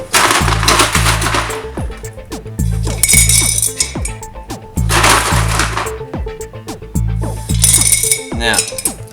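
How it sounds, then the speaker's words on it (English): Small pebbles clatter into the bottom of a glass jar for a woodland terrarium, coming in bursts of bright clinks and rattles separated by short pauses. "So I'm going to put a small layer of pebbles at the bottom of my"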